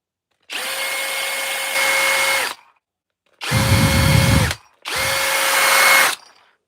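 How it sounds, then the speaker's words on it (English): A Skil cordless power drill whirs in three bursts, a long run then two shorter ones, each spinning up and cutting off cleanly, close and loud. "This is a Skill drill."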